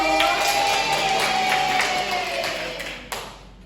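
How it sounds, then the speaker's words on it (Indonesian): First grade pupils clapping together in a classroom, a lively patter of small hands with a few louder claps, fading toward the end. "Tepuk tangan untuk kelas 1."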